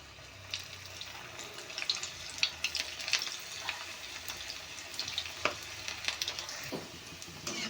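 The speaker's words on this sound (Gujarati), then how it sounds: "હવે આપણે આ રીતે મુઠિયા તળી લઈશું" Muthiya dumplings for undhiyu fry in hot oil with a soft, steady sizzle broken by small irregular crackles and pops, fairly faint and with no talking.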